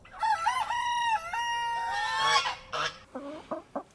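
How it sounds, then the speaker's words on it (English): A young rooster gives a thin, wavering, drawn-out crow close by, followed by a few short honking calls. "he makes the tiniest, most adorable little crow"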